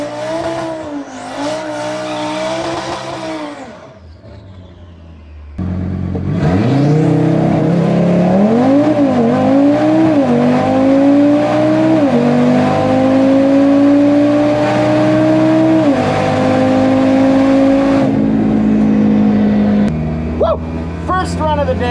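An 850 WHP Porsche Turbo S and a 700 WHP Audi RS3 in a drag race: engines rev loudly, then one car launches and pulls hard through rising, shifting gears in a sustained close-up roar before backing off.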